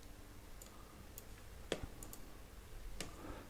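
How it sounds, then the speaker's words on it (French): Computer mouse clicks while working in an architectural rendering program, a few faint, sparse clicks spread over several seconds against a quiet room hum, with no talking. "je viens cliquer ici"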